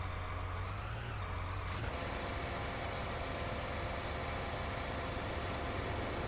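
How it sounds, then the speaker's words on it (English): Tractor engine in the Farming Simulator 19 video game, a steady broadband drone that drops in pitch and loudness near the start before holding at a constant level, with no talk. "When I drop it, the tractor goes quiet."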